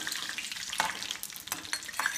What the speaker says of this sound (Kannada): ಕರಿಬೇವು ನೀರಿನ ಅಂಶ ಇದ್ದರೆ ಚಟಪಟ ಅಂತ ಹಾರತ್ತೆ